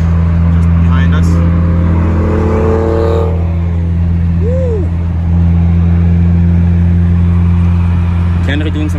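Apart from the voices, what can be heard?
car driving and revving on the road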